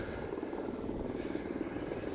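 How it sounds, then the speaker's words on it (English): A helicopter drones in a continuous, dense rotor rumble outdoors on open hillside near windmills, steady and moderately loud throughout, with no talk. "I don't know if you can hear that helicopter."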